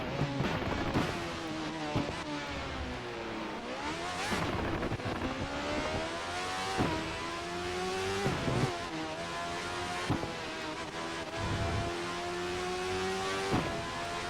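Radical SR4 Group C race car engine in the racing game Race Pro at Laguna Seca, a loud continuous engine drone rising and falling in pitch through gear shifts and revs, with no speech.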